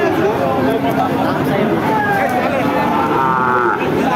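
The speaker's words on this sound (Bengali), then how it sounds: "একটা সিন্ধি জাতের গরু" Sindhi breed cattle at a busy cattle market, with drawn-out moos rising over dense crowd chatter and haggling voices, loud and continuous throughout.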